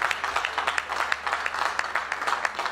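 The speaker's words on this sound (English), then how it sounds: "A round of applause," A modest crowd at a two-day retreat for local government chairmen claps for a speaker, with distinct individual claps audible in an uneven, moderately paced patter at fairly low volume.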